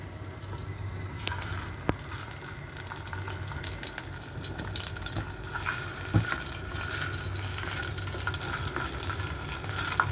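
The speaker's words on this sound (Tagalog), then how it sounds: "una is fry natin ang ating ginger" Ginger frying in a small pan for a vegetable curry, a steady close sizzle running throughout with occasional sharp ticks and clinks of utensils, no talking.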